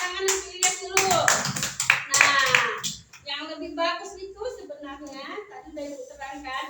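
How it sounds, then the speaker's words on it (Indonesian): A classroom of children bursts into applause for a classmate, a dense burst of hand claps lasting about three seconds, followed by a teacher speaking. "Coba tepuk tangan untuk Ilyas dulu."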